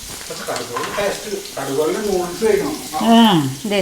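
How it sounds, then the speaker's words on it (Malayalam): Garlic sizzles and crackles in hot mustard oil in a pan while a Nepali dish is cooked, with a steady frying hiss under someone talking close by. "അപ്പൊ നമുക്കത് വെളുത്തുള്ളി ഇടാട്ടോ."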